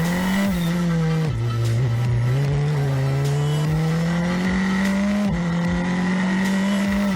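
Race cars accelerating hard at a restart after a safety car period, engines rising and dropping in pitch through gear changes, with loud continuous roar and faint tire squeal, several cars passing close.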